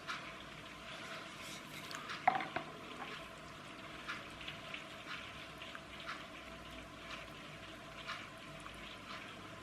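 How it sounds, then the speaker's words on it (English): Low, steady bubbling and trickling as a small metal part from a clockwork toy car sits in hot water and fills, faint and continuous with a single brief louder splash partway through. "Now it's bubbling because it's filling up with water."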